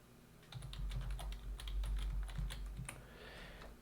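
Password being typed on a computer keyboard, a quick run of crisp, close key clicks of varying rhythm with no talking.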